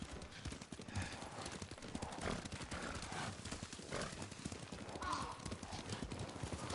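Steady clip-clop of several horses' hooves in the video game Ghost of Tsushima, in a quick, continuous rhythm, with an occasional whinny and faint voices in the background.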